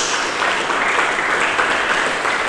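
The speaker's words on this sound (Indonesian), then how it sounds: "Berikan tepuk tangan bagi Yesus Kristus." A church congregation claps together during a sermon, a loud, steady wash of applause that fills the whole space without a break.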